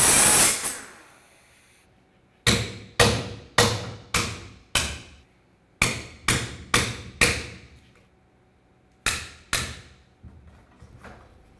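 Sharp metallic hammer-and-chisel blows on a driveshaft center bearing's rubber bushing of a 1999-2006 Chevrolet Silverado 1500 strike in quick rhythmic runs, about a dozen hits with short pauses between groups, close and clear in a quiet space.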